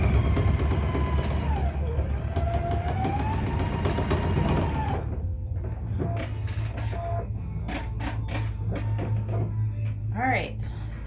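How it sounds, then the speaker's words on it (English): A sewing machine topstitches a fitted fabric face mask, whirring in a fast steady buzz up close for several seconds, then a quieter stretch with a few clicks and faint voices. "go ahead and top stitch it."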